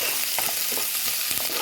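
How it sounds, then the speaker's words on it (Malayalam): Chopped garlic and green chili sauté in hot oil in a pan, giving a brief, dense sizzle with soft stirring scrapes and no voices. "ഈ വെളുത്തുള്ളി, പച്ചമുളക് അരിഞ്ഞ് വെച്ചത് അതുകൂടി അതിട്ടൊന്ന് നന്നായിട്ടൊന്ന് ചെറുതായൊന്ന് വഴറ്റിയതിന് ശേഷം"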